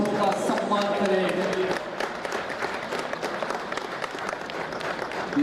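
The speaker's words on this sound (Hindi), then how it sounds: "गड़गड़ाहट तालियों के साथ, गड़गड़ाहट ध्वनियों के साथ उनका सम्मान करें।" Thunderous applause rolls through a stadium during a police colour presentation ceremony. A voice rises over the clapping at first, and then the broad, steady applause carries on alone.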